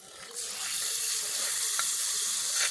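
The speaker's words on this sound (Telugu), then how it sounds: "ఇప్పుడు స్టవ్ ఆఫ్ చేసుకొని మనం మజ్జిగ చారులో ఈ తాలింపు అనేది పోసుకోవాలి" Hot tempering sizzles loudly as it is poured into buttermilk rasam (majjiga charu) after turmeric goes in off the stove, a steady, near hiss that builds and holds for a few seconds.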